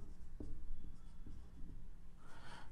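Faint, close scratching of a pen writing out a chemical name, with short irregular strokes over a quiet room background.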